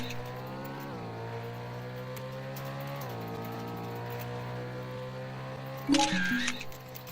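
A car drives in the Roblox game Emergency Hamburg, its quiet synthetic engine whine climbing in pitch between gear changes, with a short louder clatter near the end.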